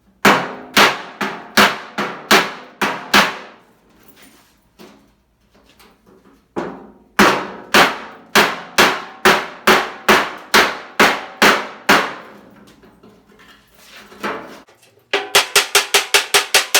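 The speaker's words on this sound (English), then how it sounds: "Got this curved face hammer that I'm going to use close to this body line here." Curved-face hammer striking the steel rear fender of a 1950 Chevy, delivering rapid bursts of sharp metallic blows in quick rhythmic runs, pausing briefly, then resuming with steady strikes and a fast closing flurry, loud and close.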